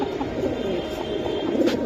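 Giribaz pigeons at a loft coo in a steady, dense murmur, several birds close by and overlapping throughout with no pauses.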